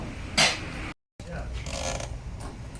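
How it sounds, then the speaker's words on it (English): Plastic air filter casing pulled out of an engine bay, giving a short creaking, scraping rattle near the mic, followed after a brief gap by duller rustling handling noise. "that's the air filter casing now coming out so we can get to the top"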